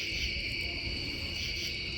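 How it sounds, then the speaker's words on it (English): Crickets trill continuously outdoors at a Michigan recreation area in a steady, high-pitched chorus, with a faint low rumble beneath. "insect and frog sounds come through here"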